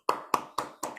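Four crisp, evenly spaced claps ring out in about a second, sharp and close with short decaying tails, as from a single pair of hands during an online meeting.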